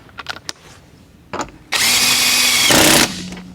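A power tool tightens lug nuts on a 2020 Jeep spare tire: a few light clicks and taps, then a loud, close, sustained whirring buzz for over a second that cuts off abruptly.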